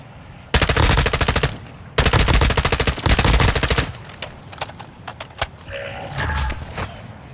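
Automatic weapons fire in the video game Modern Warfare II DMZ: two long, rapid bursts rattle out loudly, followed by scattered lighter shots and mechanical clicks.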